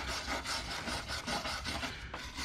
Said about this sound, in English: I'm just going to clean up this mating surface a little bit here